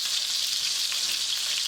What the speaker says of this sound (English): My pork chops are browning good.